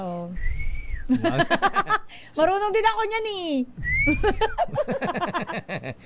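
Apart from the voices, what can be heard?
person whistling to call the wind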